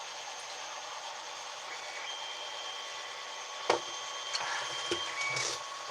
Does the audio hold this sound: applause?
no